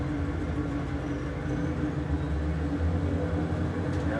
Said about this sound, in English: let's get our engine warmed up a little bit here.